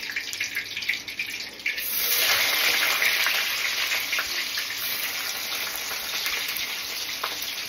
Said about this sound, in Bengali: পেঁয়াজটা একটু ভেজে নেব ভালো করে নাড়িয়ে